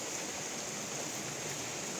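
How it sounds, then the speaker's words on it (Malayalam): Heavy rain pouring steadily under a dark, overcast sky, a dense unbroken hiss of water with no voices over it. "മഴ പെയ്യാൻ തുടങ്ങിയിട്ടോ ഗൈസ്, നല്ല മഴയാണ്"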